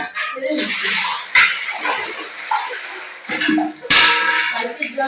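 Leftover stored water dumped out of a bucket in a home kitchen, loud splashing gushes in several bursts close by, with someone speaking over it.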